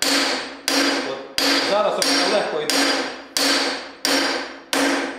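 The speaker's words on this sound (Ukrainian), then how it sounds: "якщо ви попали правильно, ваш молоток відскокує приблизно сюди" A hammer strikes metal in seven sharp, ringing blows at an even pace, each ring decaying before the next hit, with a brief spoken remark partway through.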